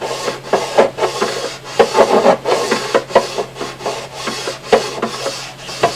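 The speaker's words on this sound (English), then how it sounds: "You can hear the file sound of it change" A metal file rasping over the fret ends of a Martin 00028 acoustic guitar, with steady back-and-forth strokes of close, scratchy grinding over a faint low hum.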